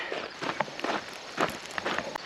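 A runner's steady footfalls outdoors on a rainy day beside cornfields during a 200-mile ultramarathon, a regular rhythm of close, soft impacts over a constant hiss of background noise.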